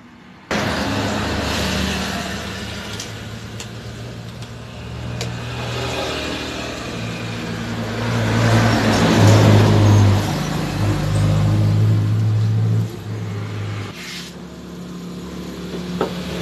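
A Honda TMX 155 CDI motorcycle engine, once noisy and now repaired at the kick idle gear, starts up close and runs steadily. It rises to a louder rev midway, then drops back near the end.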